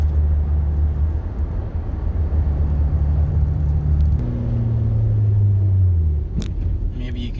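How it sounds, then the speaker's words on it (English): A 2015 Camaro LT V6 fitted with a cold air intake, its engine droning in a loud, steady low rumble that climbs in pitch partway through as it revs, then settles back. "You can hear the cold air intake sound between the cold air intake and the throttle body."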